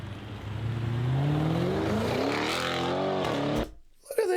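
An Audi drives past close by, its engine swelling from a low drone into a rising, revving whoosh as it nears, then cutting off abruptly as it passes.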